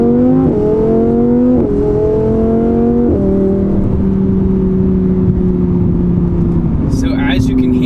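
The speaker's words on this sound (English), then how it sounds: "So as you can hear, this car sounds like a true supercar now." Audi R8 V10 Plus fitted with a Capristo exhaust, valves open, revving loudly up close: several sharp throttle blips climb and drop, then settle into a sustained high idle with a deep, steady exhaust tone.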